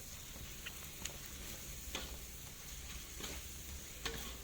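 Spice paste sizzles softly in a pan while being stirred, a faint continuous frying hiss with occasional light scraping clicks of the utensil.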